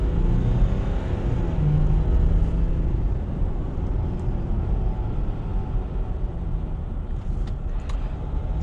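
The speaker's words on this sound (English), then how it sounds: "I would say this engine is really peppy in the mid-range, probably usually around when the turbo is spooling up." A 2014 Ram 1500 EcoDiesel pickup accelerating, its turbo-diesel engine giving a loud, steady low rumble that swells briefly and then settles, heard from inside the cab.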